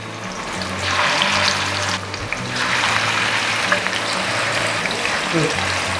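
Chicken pieces frying in hot oil in a pan, a steady broadband sizzle and crackle running throughout at close range, with occasional low clatter in the background.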